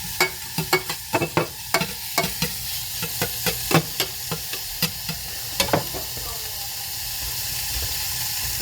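An already cooked omelet warms in a frying pan, a light steady sizzle under a run of sharp clicking taps early on that fade into continuous hissing.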